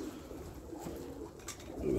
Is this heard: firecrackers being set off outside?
no